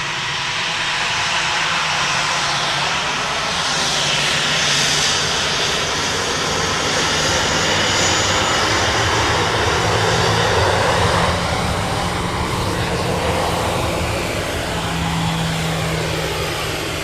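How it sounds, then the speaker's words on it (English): An Aer Lingus Airbus A320 jet lands at Dublin Airport, its engine roar loud, broad and continuous throughout with a slowly shifting pitch. "Next up, Airbus A320 of Aer Lingus in from Charles de Gaulle."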